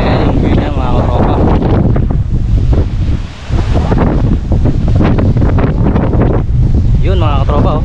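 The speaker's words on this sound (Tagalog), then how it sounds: "Ang lakas ng hangin." Strong wind on Marinduque buffets the microphone in a constant roaring rush, with a person talking over it at the start and near the end.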